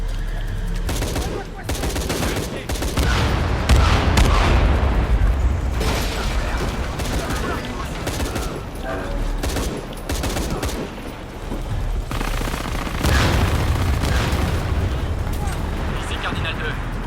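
Sustained heavy gunfire and machine-gun bursts in a Shadow of the Tomb Raider combat scene, loud and dense with booming impacts, under radio-style voices speaking.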